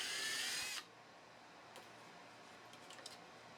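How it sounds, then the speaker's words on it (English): A power drill bores pilot holes in a model airplane motor box, a brief high whine that cuts off sharply after under a second, leaving a quiet room with a few faint ticks. "Use the template markings to drill the pilot holes."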